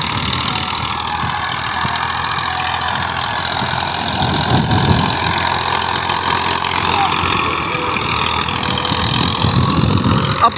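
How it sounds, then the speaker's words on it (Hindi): A Massey Ferguson 1035 DI tractor, a 35 hp diesel, runs in first gear high range pulling a cultivator through a field, giving a steady loud engine drone with rough low-end rumble throughout and no talk. "पहले के हाई में ये ट्रैक्टर चल रहा है और आराम से चाल है"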